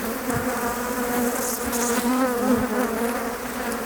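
Honey bees buzz densely around their hives, a loud, continuous droning hum close by, swelling slightly as individual bees pass near.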